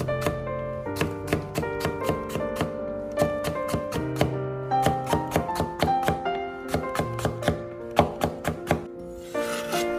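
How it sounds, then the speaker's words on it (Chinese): A knife cuts carrot slices into fine, even shreds on a cutting board, making quick, steady chopping taps in rapid rhythmic runs with short pauses between them. The sound is close and clear, with no talk. "然后将胡萝卜片切成胡萝卜丝，将胡萝卜切成大小均匀的细丝就可以了。"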